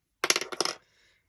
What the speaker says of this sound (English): I have so many pink dice